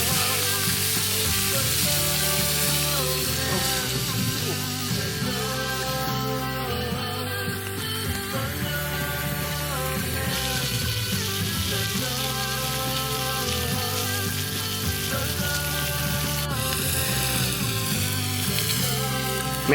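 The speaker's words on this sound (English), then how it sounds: "Look at this guy, frying bacon up on a hot rock." Steady, loud sizzling and crackling of bacon frying on a hot rock outdoors, continuous throughout with no talking.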